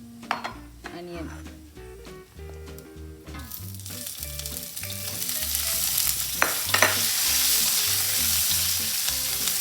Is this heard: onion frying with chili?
yes